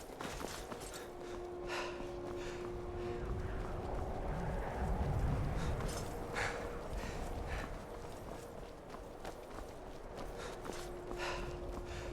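Steady clip-clop of horse hooves in Skyrim under soft breathy sighs and ambient game sounds, moderate and continuous throughout.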